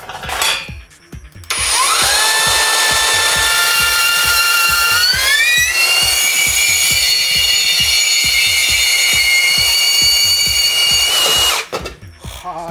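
A HiKOKI CB3612DA 36V cordless band saw cuts through metal pipe, its blade whine rising and then holding loud and steady for about ten seconds before stopping abruptly. No one speaks.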